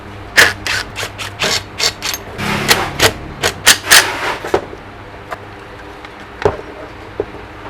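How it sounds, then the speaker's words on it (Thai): A power tool removes the four screws from a Bosch angle grinder that runs weakly and cuts out, sounding as a quick series of sharp close bursts and clicks, then a few sparse taps. "ให้เรายิงน็อตสี่ตัวนี้ออก"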